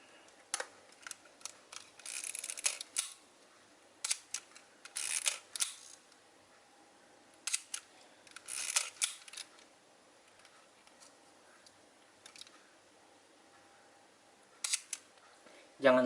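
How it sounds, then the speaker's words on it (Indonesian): An analog SLR film camera being cocked and fired, giving a series of crisp mechanical clicks and shutter snaps in separate bursts over a quiet room, with faint talk between them. "kita coba untuk kokang jepret"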